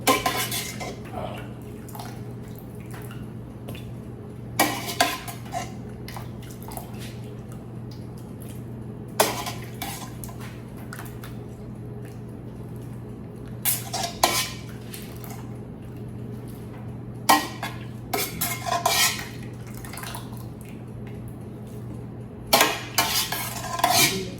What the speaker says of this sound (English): the potatoes is done, and we're going to add it to the bowl